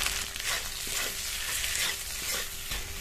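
Ginger and green chili frying in oil with turmeric and spices, a continuous bright sizzle with repeated scraping stirs of a utensil against the pan, close and steady.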